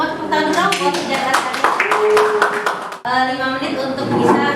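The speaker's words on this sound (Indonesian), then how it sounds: "Tepuk tangan dulu buat kerja" A classroom group claps hands together after gathering, a burst of sharp clapping mixed with voices and excited talk, briefly cut off before chatter and clapping resume.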